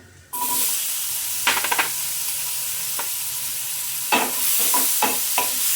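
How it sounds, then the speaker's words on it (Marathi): Mixed vegetables for a red pasta sauté and sizzle steadily in a hot pan, with a few bursts of spoon-scraping and stirring scattered through the clip, close up and with no talking. "या भाज्या आपल्याला चांगल्या परतून घ्यायच्या आहेत."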